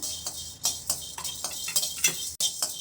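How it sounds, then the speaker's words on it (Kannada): Chana dal roasting dry in a pan, a run of crisp scraping and clinking stirring strokes in an uneven rhythm, close and moderately loud, with no speech. "ನೋಡಿ ಇವಾಗ ಹುರಿ ಹುರ್ಕೋತೀನಿ ಈಗ ಅಷ್ಟು ಕಡಲೆಬೇಳೆ ಹಾಕೊಂಡಿದ್ದೀನಿ"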